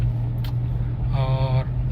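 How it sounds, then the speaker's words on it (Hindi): A car driving in third gear, a steady low engine hum heard from inside the cabin, with a brief tonal whine midway and no clear speech. "ये थर्ड गियर में हमारी गाड़ी चल रही है।"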